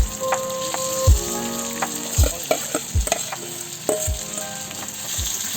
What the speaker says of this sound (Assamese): পলুখিনি এইখিনি দিয়াৰ পিছত এইটো ফ্ৰাই কৰিব লাগিব